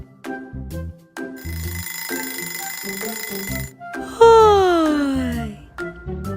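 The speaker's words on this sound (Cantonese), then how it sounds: "一隻小恐龍俾鬧鐘嘈醒咗啊" An electronic alarm clock rings in bursts with short pauses, followed by a loud descending warble, with a steady tone pulsing between rings.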